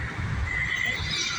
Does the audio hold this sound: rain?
no